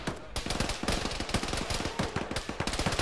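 Rapid bursts of automatic gunfire in the military shooter Arma (ShackTac), sharp repeated shots with steady rhythm, close and loud throughout.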